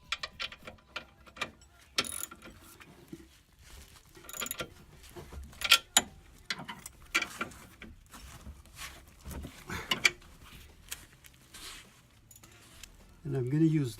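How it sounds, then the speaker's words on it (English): Ratchet wrench clicking in uneven bursts while tightening sway bar end links on a Subaru Outback, close and fairly faint, with spoken talk across much of it. "they're tight enough now that I can get the wrench on."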